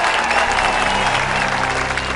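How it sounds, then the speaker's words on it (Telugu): Steady audience applause from a crowd at a Telugu speech about farmers, dense and loud throughout with a faint undertone of voices. "చప్పట్లు."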